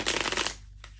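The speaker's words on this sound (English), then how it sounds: "I'm gonna shuffle this a few times." A very old deck of playing cards is shuffled close by in one brisk riffle burst that stops abruptly, followed by a faint tap.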